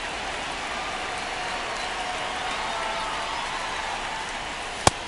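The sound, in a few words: rain falling at baseball stadium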